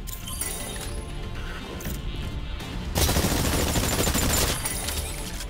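Gunfire at targets in the Exoprimal game tutorial, a continuous rapid crackle of shots that grows louder and denser midway, with metallic clinks mixed in.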